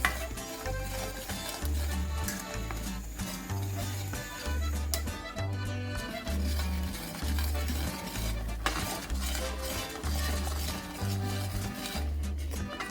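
A spoon stirs Magas, a sweet of roasting besan in ghee, in a pan over the flame. Regular scraping strokes about once a second and a faint sizzle sound close and fairly quiet, with no talking.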